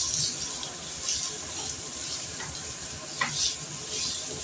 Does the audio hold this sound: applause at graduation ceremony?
no